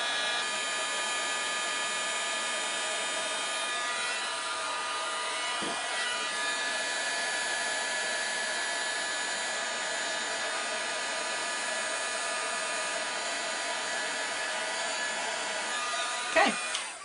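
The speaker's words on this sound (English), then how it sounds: "you just need to put the heat on it until you start seeing it go shiny" A heat embossing tool blows a steady, close whirring hiss while it heats embossing powder on cardstock, with a brief clunk near the end.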